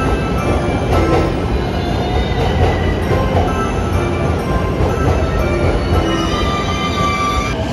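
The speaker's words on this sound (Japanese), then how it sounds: "東京駅9番線には16時39分発、もはや踊り子な臨時特急熱海海上花火大会号熱海行きやってきました。" A limited express train pulls into platform 9 at Tokyo Station, a loud continuous rumble of wheels and rail noise with faint squealing, no voices.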